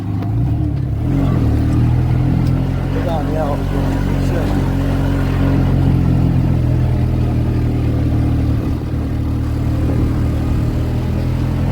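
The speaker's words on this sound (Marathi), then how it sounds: "चला आता आम्ही रिक्षेत चालले वरती मस्त पैकी" An auto rickshaw engine drones steadily during a ride uphill toward a hill temple, a continuous mid-pitched rumble with some rattling, loud and close throughout, with a brief bit of talk near the start.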